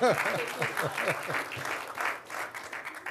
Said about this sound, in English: This is when we clap.